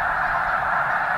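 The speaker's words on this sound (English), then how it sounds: "let you listen to the sound of the snow geese" A huge flock of snow geese honking in flight, a dense continuous chorus of overlapping calls, loud and steady, with no talk.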